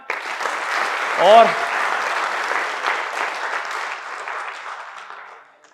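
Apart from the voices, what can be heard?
seminar audience applause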